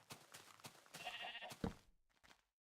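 Sheep in the Minecraft game bleat several times in quick succession, a clear nearby cry that stops abruptly and leaves silence.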